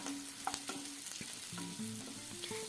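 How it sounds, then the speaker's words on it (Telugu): Thinly sliced onions and two green chillies fry in oil with a soft, continuous sizzle. A spoon stirs through them, making several scraping clinks and tonal knocks against the pan, close up and with no talk. "సన్నగా కట్ చేసి టూ పచ్చిమిర్చీస్ వేసి ఇలా బాగా ఫ్రై చేసుకోవాలి"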